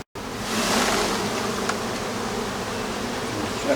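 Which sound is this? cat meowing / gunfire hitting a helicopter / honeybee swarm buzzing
honeybee swarm buzzing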